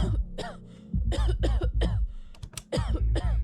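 A rapid series of harsh, hacking coughs, about a dozen in quick succession, close and loud with rasping breaths between them.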